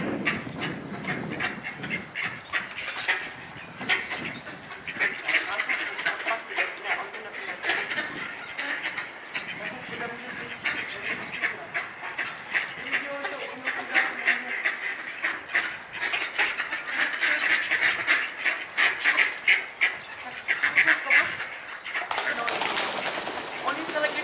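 Ducks quacking and calling during feeding, a dense continuous chatter of many birds close by, with people talking over the flock throughout.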